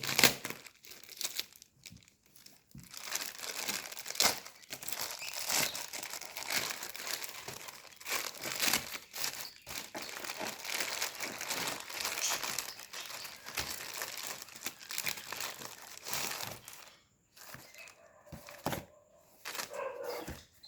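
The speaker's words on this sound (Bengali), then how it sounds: "কাটা চামচ, এটা থেকেই বক্স ওপেন হবে, অন্য সরঞ্জাম নেই।" A boxed mobile phone cover prised open with a fork, heard as close, continuous crinkling, tearing and crushing of cardboard and plastic wrap in irregular bursts, ending with a few quieter rustles, no talking.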